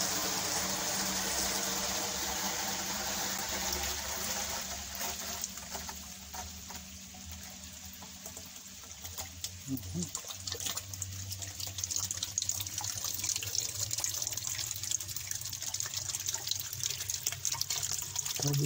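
Steady rushing water pours continuously into a well, like liquid filling a deep container, with a low mechanical hum underneath and occasional faint voices.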